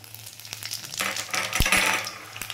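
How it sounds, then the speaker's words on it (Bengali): Two bay leaf pieces, half a spoon of five-spice seeds and four dried red chilies frying in hot oil, giving a soft sizzle with sharp crackles and pops, one louder burst near the middle. "আর বাকি তেলের মধ্যে আমি এখানে ফোড়ন দেব। 2 টুকরো তেজপাতা, হাফ চামচ 5 ফোড়ন, আর 4 টুকরো শুকনো লঙ্কা"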